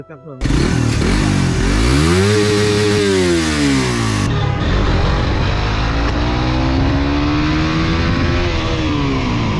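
A second-hand Suzuki GSX-R motorcycle engine revs hard up and down close by, rising and falling in pitch before settling into a loud, steady idle, with some talk nearby.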